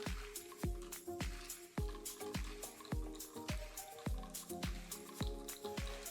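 A lime cocktail with Sprite being stirred in a glass, a quiet, close series of regular liquid squishes and small clinks, about two each second, with no talking.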